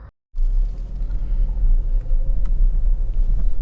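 A Honda Civic 1.8 i-VTEC S Tourer automatic idles with a steady low rumble after a brief silent gap, heard from inside the car with a faint hum over it.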